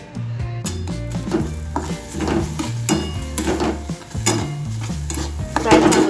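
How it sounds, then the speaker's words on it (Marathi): Moong dal dry-roasted in a pan, stirred with a utensil that scrapes and taps the metal in a steady rhythm, close and fairly loud over a faint sizzle. "मस्त भाजून घ्यायचंय आपली डाळ भाजून झाली"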